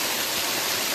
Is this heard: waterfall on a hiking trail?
yes